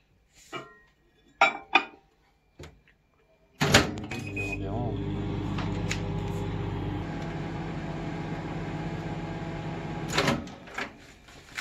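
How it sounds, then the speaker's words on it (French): A microwave oven runs while heating two glasses of water for couscous, a steady hum lasting several seconds, bracketed by clicks, a door clunk and kitchen clinks before and after. "Je les chauffe dans le micro-ondes, comme ça."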